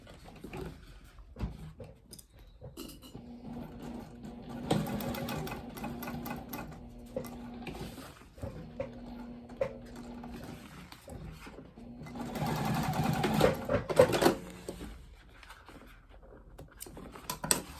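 A sewing machine stitches a crossbody bag strap 1/8 inch from either edge, running in several long steady bursts with short pauses between them, close and clear with no talking.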